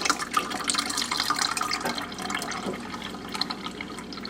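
Brewed four-berry tea drains steadily through a sieve into a pitcher, giving a continuous close trickle and splash of liquid with scattered drips and no voices.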